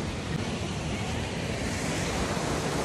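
Rushing water at Kaigal waterfall pours in a steady, dense roar, loud and constant throughout with no voices.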